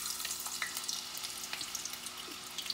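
Cut potatoes fry in hot oil, a dense, quiet, steady crackling sizzle with tiny pops throughout and no talking.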